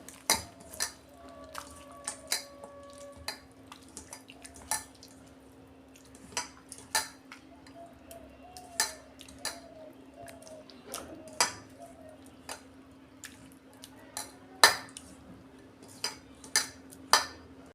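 A spoon clinks and scrapes repeatedly against a bowl while fish roe is mixed with chopped onion and green chilli, sharp irregular knocks close up over a soft background hum.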